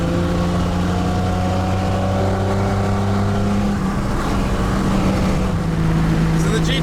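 Triumph GT6 sports car with four gears and no overdrive cruising at motorway speed, its engine droning loud and steady at high revs with rising and shifting harmonic tones, heard from inside the cabin.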